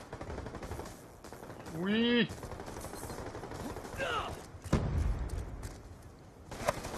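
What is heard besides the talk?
gunfire in video game Black Ops II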